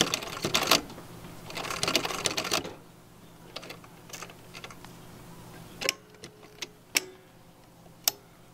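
A sewing machine stitches reinforcement around a flexible magnetic window screen, a dense rapid run of needle clatter for a few seconds, then a quiet stretch broken by several sharp isolated single stitches.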